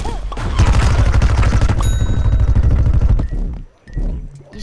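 Rapid-fire pea shots from the Gatling Pea in Plants vs Zombies Garden Warfare rattle in a dense, loud, continuous stream, then cut off into a brief ding and scattered game sounds.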